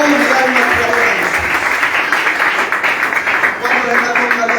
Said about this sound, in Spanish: Vamos a ver el fuerte aplauso al Rey